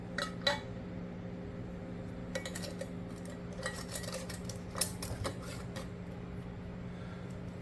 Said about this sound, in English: when I put my lids on, I just do them just like that